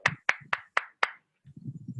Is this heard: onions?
no